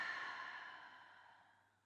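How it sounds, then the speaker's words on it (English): A single long, gentle exhale, likely through the mouth, during a third-trimester pregnancy yoga breathing exercise, breathy and close, fading out over about two seconds. "Take an inhale to your nose and exhale to your mouth."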